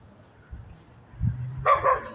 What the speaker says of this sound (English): Barking from the left, from the left.